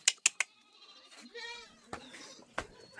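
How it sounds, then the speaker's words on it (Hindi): A goat bleats once in a wavering, drawn-out call midway, preceded by a few sharp clicks and followed by scattered knocks, fairly close and moderately loud. "बकरी।"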